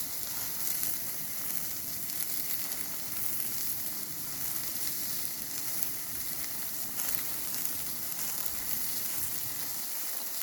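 Burger patties sizzle steadily on a griddle at lunchtime, a dense, continuous crackling hiss held close and even for the whole stretch with no talk over it.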